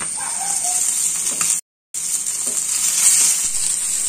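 Freshly caught stream fish fries in a hot pan, cooked country style, with a loud, steady close-up sizzle that cuts out briefly as the fish is flipped, then resumes as strongly.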